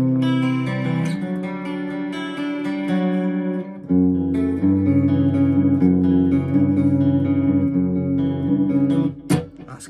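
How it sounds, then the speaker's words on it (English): A Warman electric guitar plays through an amp with built-in delay and reverb, ringing notes and chords that wash into echoing tails before a sharp stop near the end. "Delay and reverb just coming from the amp, by the way."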